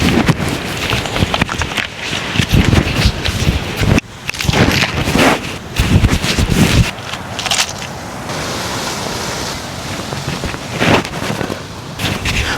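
A strong Santa Ana windstorm in Southern California batters a small clip-on microphone, producing loud, roaring buffets and rumbling gusts that swell and drop unevenly throughout with no speech.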